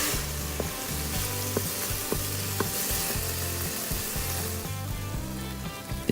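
Meat sautéing in an Instant Pot on saute mode, a continuous close sizzle and bubbling with occasional stirring scrapes, joined by a rhythmic low mechanical hum throughout.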